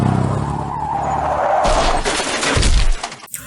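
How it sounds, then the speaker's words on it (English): A car skids with a screeching tire squeal, then slams into a pole with a loud crunching impact and shattering debris, all within a few seconds. "a car crashed into the pole in front of his house"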